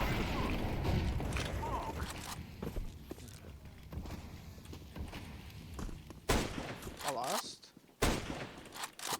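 Gunfire in a tactical shooter video game: repeated sharp shots and bursts with footsteps amid game noise, while players talk over it throughout.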